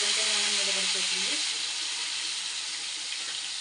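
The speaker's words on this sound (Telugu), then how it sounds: "ఇప్పుడు ఇది నూనెలో వేసుకున్నాను" Chicken pieces, seasoned with salt and chili powder, are lowered into hot oil and sizzle steadily on low flame in a steady, close hiss that fills the clip, with a faint voice briefly at the start.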